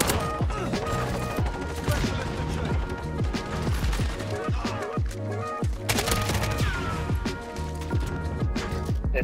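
Rapid automatic gunfire in a Call of Duty match with an AK-47, loud bursts and single shots crackling repeatedly throughout, with sharper clusters of fire near the start and middle.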